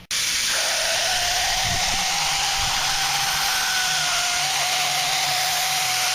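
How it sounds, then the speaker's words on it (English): A spray gun lays a thick coat of lacquer primer over rusty steel, a loud, steady airy hiss that runs unbroken from start to finish, with a faint mechanical hum beneath it. "I'll go grab the gun and we'll put a little bit of lacquer primer over these areas"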